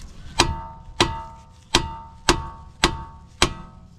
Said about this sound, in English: for this outer tie rod right here, you can just bang this side right here and it'll come right off